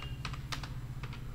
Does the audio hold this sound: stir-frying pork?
no